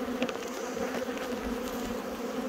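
Honey bees buzzing at a hive on Dartmoor, a dense close drone of many insects with steady humming tones and the odd louder bee passing near.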